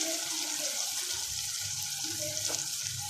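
Potatoes and mongray pods tipped into hot oil with masala and green chillies give a steady, close sizzle and hiss, with no talking.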